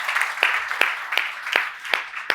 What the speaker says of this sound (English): So massive round of applause.